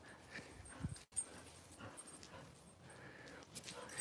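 Dogs at play give soft whimpers and breathy panting close by, quiet and intermittent, with faint rustling in the background.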